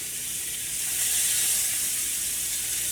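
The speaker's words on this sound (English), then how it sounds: "I'm gonna take this one by one and place it inside of the frying pan." Loud, steady sizzling of beef short ribs frying in a pan, a dense crackling hiss filling the whole moment with no voices.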